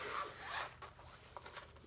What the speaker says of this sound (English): So it zips all the way around from the top down through the front. It's just one continuous zipper